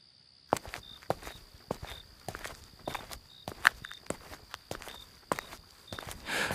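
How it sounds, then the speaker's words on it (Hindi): Footsteps in a horror story setting: a steady series of distinct, fairly close steps at an even walking pace, each a sharp tap over a faint, high, insect-like hum, with no voices. "तभी अचानक कदमों की आहट सुनाई दी।"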